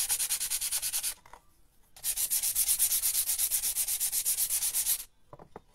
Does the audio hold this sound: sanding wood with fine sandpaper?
yes